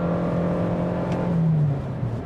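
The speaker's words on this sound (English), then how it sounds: "you heard it spins out the front tires kind of comically" A 2024 Toyota Corolla Cross XSE hybrid small SUV accelerating hard on a damp, rainy road, front tires spinning: a steady loud engine drone with a rising whine, close and continuous.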